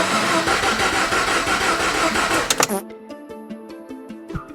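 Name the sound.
Mazda RX-8 engine cranking with jumper pack on battery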